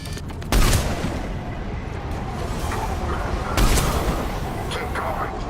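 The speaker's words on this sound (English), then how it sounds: "Sniper fire!" Sniper gunfire in the Mass Effect video game, heavy booming reports amid a dense, noisy combat soundscape, two prominent blasts about three seconds apart with continuous rumble and clatter between.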